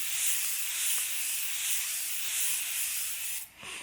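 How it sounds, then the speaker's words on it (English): Aerosol makeup setting spray hisses out in one continuous, fairly loud burst for about three seconds. It cuts off, and a brief second puff follows. "I love an aerosol sprayer better than like a regular sprayer."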